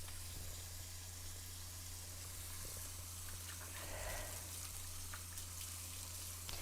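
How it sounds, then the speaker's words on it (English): Water running steadily under a tap, rinsing marinade off inch-thick tenderized pork chops, a constant close hiss and splash with a low hum beneath, no talking. "And I'm rinsing off the marinade because I'm going to be putting glaze on them, on the pork chops."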